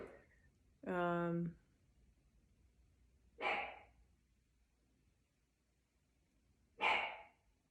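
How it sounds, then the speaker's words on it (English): A single dog gives a few sharp barks, spaced apart and fairly close, with quiet gaps between them. "That's my dog, Oliver."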